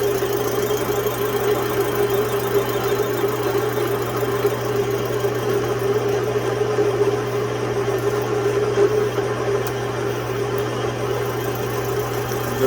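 Machine decking a Husqvarna 181SE chainsaw cylinder, a steady humming drone with a constant low tone and faint cutting chatter throughout, no talk.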